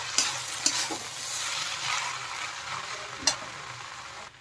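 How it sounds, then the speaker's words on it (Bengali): Noodles with vegetables and spice being stirred in a hot pan, a continuous sizzle broken by a few sharp scrapes and taps of the spatula, close up with no voices. "এখন ভালোভাবে আমি মিশিয়ে দেবো সবজির সাথে নুডলসটা"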